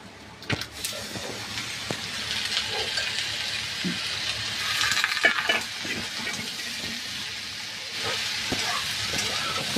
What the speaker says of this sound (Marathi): थोडंसं तूप टाकते मी